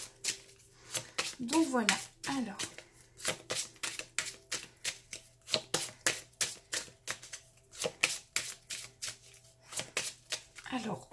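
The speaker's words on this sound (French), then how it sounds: "Alors, on mélange et ensuite on piochera les cartes" Tarot cards are shuffled by hand in quick, rhythmic riffles and taps, close and fairly soft, with someone speaking briefly in between.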